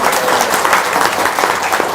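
Loud, dense applause from an audience at a motivational talk, many hands clapping close and continuous without a break.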